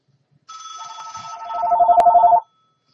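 A telephone rings loudly nearby in one continuous trilling burst lasting about two seconds, rising in intensity before cutting off into silence.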